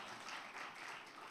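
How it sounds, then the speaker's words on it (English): An audience clapping at a motivational talk, a brief, soft, continuous patter of many hands. "You can clap if you want to clap"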